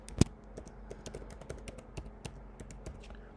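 Rapid, close clicking of keys on a computer keyboard as an account password is typed, with one sharper tap near the start and steady keystrokes after.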